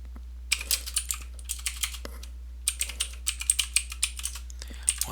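Rapid keystrokes on a computer keyboard while entering labels into an Excel spreadsheet: two bursts of quick, crisp, close clicks separated by a short pause, with a faint steady low hum underneath and no talking.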